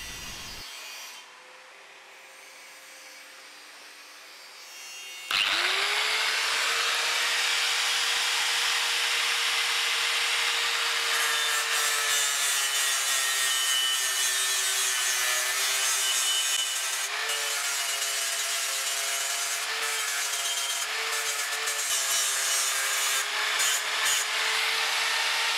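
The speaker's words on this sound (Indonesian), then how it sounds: "Tinggal kita hamplas." A stainless steel weld made with an electric arc welder is sanded by hand, a loud continuous abrasive rubbing that starts abruptly after a quiet opening and holds steady up close, with no talking.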